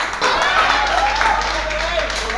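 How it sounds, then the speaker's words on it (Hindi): Loud audience clapping at a live poetry recital event, close and sustained, with voices and cheering carried over it. "जोरदार तालियां"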